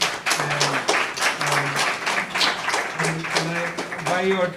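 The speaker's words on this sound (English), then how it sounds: "By your tepid applause" Sparse, tepid applause from a lecture audience marking the 100th anniversary of the founding of the Communist Party of China, scattered claps running steadily at moderate level with a voice talking over it.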